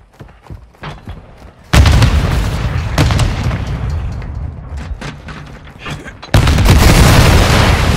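Mortar strikes from an air strike in a Call of Duty Modern Warfare II search and destroy match land as loud, close booming explosions in two big bursts, with scattered gunfire and a voice in between.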